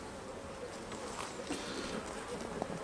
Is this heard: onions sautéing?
no